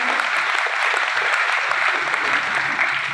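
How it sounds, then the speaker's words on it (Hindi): A seminar crowd claps steadily and fairly loudly for a speaker being honored, a continuous dense wash of many hands with no voices over it. "ताली जोरदार बजाइए टीसी छाबड़ा जी"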